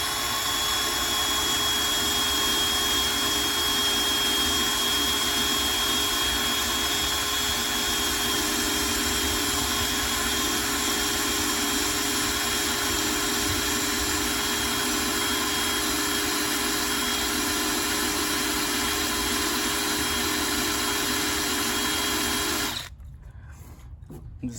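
Steady, loud whirring drone of a soft rubber eraser wheel on a power tool rubbing stuck-on adhesive off car paint, running continuously with no talk, then cutting out abruptly near the end.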